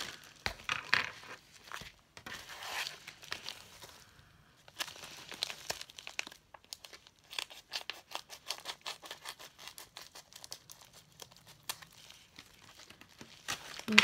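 A package is opened during an unboxing, with a burst of crinkling and tearing of plastic or paper, then a long run of sharp, close crackles and handling taps with no one speaking.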